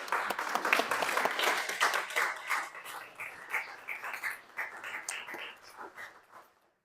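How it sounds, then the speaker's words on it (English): An audience at a veterans' recognition event applauds family members of veterans, a lively burst of clapping that gradually thins and tapers off into silence. "And please join me in a round of applause."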